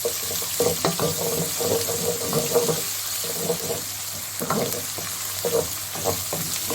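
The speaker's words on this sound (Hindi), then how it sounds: "जी अब हम इसमें डालेंगे जिंजर गार्लिक पेस्ट। इसको हम 2 से 3 मिनट भून देंगे।" Ginger garlic paste frying in a pan with browned onion for a zucchini and mutton mince dish, a steady sizzle broken by stirring scrapes and clatters, close by, with no voices.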